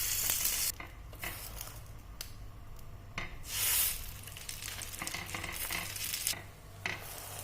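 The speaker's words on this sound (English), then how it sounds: "I'm using a grill pan, but you can use even a normal pan to toast with some ghee" Bread toasts with ghee in a grill pan, a steady close sizzle with bursts of louder hissing and scraping stirs, no talking.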